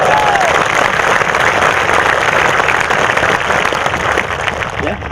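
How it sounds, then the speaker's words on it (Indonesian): A large crowd at a Kopassus military beret ceremony applauds loudly and continuously, a dense sustained patter that tapers slightly at the end, with some voices mixed in. "Tepuk tangan untuk kalian."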